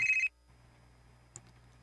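A telephone rings in a Cebuano radio drama. One short, clear ring opens the moment, then drops into a quiet background with a faint click.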